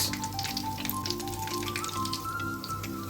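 Nigerian egg rolls frying in hot oil over medium heat, a steady dense sizzle with crackling pops throughout, accompanied by a faint background tone and no talk.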